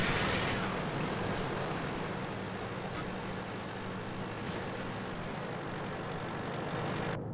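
A tank cannon fires in a tank video game, opening with a loud heavy boom that decays into a long rumbling roar of engine and ambient noise, with another soft thud near the end.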